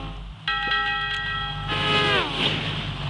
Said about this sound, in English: Gotta figure out how this train's working.